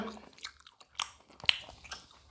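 Someone eats roti dipped in meat curry gravy close to the mic, with soft wet chewing and a few distinct biting clicks over about two seconds, no talking.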